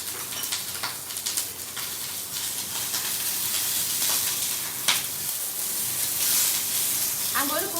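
Cauliflower pieces fry in a pan with a continuous close sizzle and hiss, broken by a few clinks and scrapes of a utensil and a rising crackle near the end.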